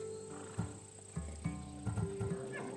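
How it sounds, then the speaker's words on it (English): A Macedonian war horse in Assassin's Creed Odyssey gives a few soft, scattered hoof thumps and snorts at close range over a steady tonal game ambience, fairly quiet overall. "These are bred for battle. A true warrior's horse."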